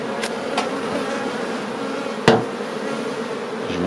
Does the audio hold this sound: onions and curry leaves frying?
no